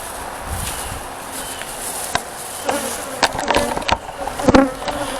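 Honeybees buzzing around a deer feeder outdoors, a steady insect hum running throughout with a few sharp knocks and clicks rising toward the end.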